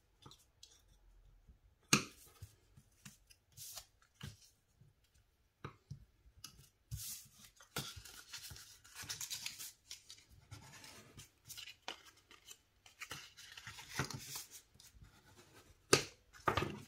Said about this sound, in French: Alors, je vais réaliser aussi les marques de pli.